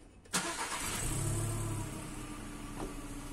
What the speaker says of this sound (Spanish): Arrancar el coche.